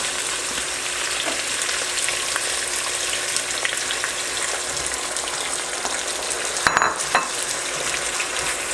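Mushrooms and beef sizzling in a stir-fry pan, cooked with broccoli and red pepper: a loud, continuous close-up hiss with occasional crackles and one sharp clatter near the end, no voices.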